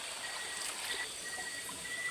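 Shallow stream water running fast at night, a steady soft rushing and trickling that stays even throughout, with faint insect chirps in the background.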